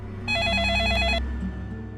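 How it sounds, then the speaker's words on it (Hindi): A telephone rings after a call is placed to a police station in Versova, one warbling electronic ring burst lasting about a second over a low steady background hum, then quiet. "लगाओ फोन, लगाओ, अभी के अभी लगाओ।"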